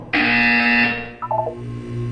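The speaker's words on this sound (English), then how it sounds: "You will hear a buzzer. When you hear the buzzer, look down at the floor." A loud electronic buzzer in the Portal 2 video game blares steadily for about a second, then gives way to a short run of quick lower beeps over a low background hum.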